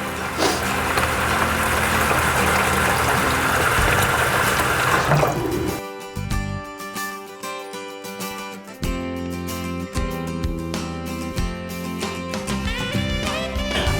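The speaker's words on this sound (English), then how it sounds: "So that's why I'm just filling up this bucket full of water." Water pouring from a tap into a bucket, a steady rushing stream at first that then gives way to shifting, gurgling filling sounds as the level rises, close and fairly loud, no talking.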